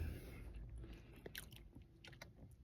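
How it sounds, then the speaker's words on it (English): A person chews food close to the microphone during a Jamaican food review, producing soft, irregular crunching and biting sounds at a low level with no speech. "got me chewing like a madman"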